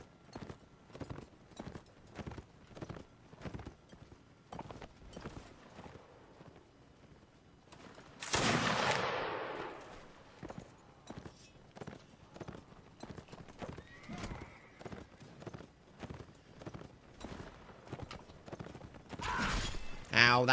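Horses thunder along in a Napoleonic Wars line-battle video game, hooves clip-clopping in a steady rapid rhythm throughout, with loud whinnies and neighs bursting out midway and near the end.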